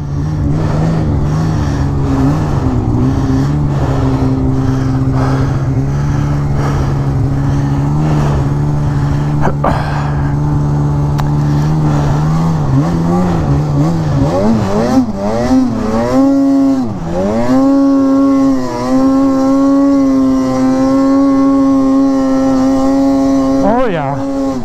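A Polaris Assault 144 snowmobile with a 1.6 engine pounds through deep snow drifts, its loud engine droning steadily, then revving up and down in swooping surges as it hits each drift, with a rider's voice heard over it.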